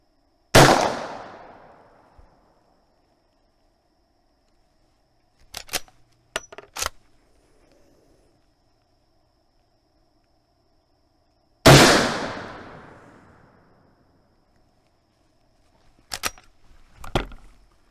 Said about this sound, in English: let's send these rounds downrange and see how they compare velocity-wise